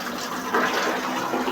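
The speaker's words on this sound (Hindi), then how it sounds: "अब देखते हैं पानी आ रहा है कि नहीं आ रहा" Water gushing from a direct tap fed by a running motor pump, a steady broadband rush that swells slightly and holds, loud and close with no talk.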